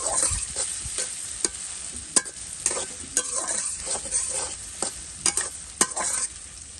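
Banana flower and onion are stir-fried in a pan: a continuous close sizzle broken by repeated scraping strokes of a spatula at an uneven rhythm.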